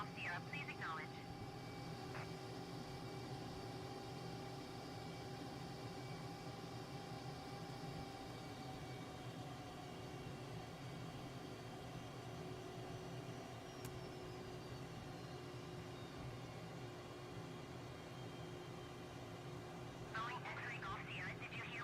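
A flight simulator airplane engine during landing gives a steady, low, continuous drone throughout, with brief voice-like sounds near the start and end.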